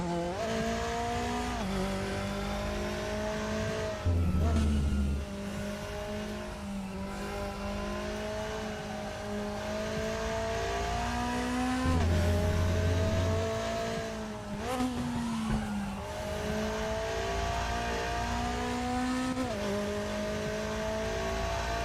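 McLaren race car engine in the racing game RaceRoom, holding a steady high-pitched drone that drops sharply with each gearshift and climbs again, with tyre noise underneath, continuous throughout.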